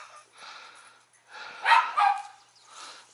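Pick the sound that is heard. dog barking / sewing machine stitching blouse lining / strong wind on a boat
dog barking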